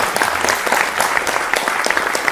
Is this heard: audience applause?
yes